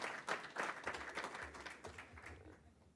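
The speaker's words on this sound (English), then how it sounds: "And then finally, we can clap for Chuck" An audience at a Board of Education meeting claps in a short round of applause, a dense patter of hands that fades toward the end.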